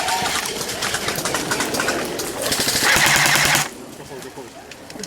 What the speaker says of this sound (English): Guys, watch out, they're firing over here.